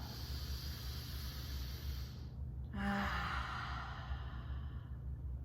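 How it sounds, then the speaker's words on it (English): A deep breath exhaled through the mouth during a yoga breathing exercise, a single soft, airy sigh-like release near the middle, close and fairly quiet over a low steady background hum. "Inhale through your nose, and exhale"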